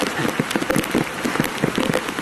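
Heavy monsoon rain near Dudhsagar Falls in Goa drumming hard on a surface close by, a dense patter of many drops with no talking.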